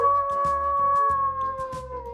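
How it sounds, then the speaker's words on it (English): A sustained, mournful wolf or dog howl holds a steady tone that sags slightly toward the end, heard clearly and alone for about two seconds. "A howl usually refers to the sound that wolves and dogs make."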